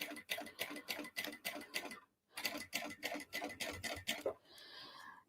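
A sewing machine runs top stitching on a vinyl crossbody bag, rapid rhythmic needle clatter in two bursts with a brief pause between, recorded close and fairly quiet.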